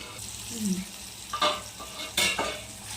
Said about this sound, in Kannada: ಟೊಮೊಟೊ ಎಲ್ಲ ಮೆತ್ತಗಾಗಬೇಕು, ಆ ಥರ ಫ್ರೈ ಮಾಡ್ತೀನಿ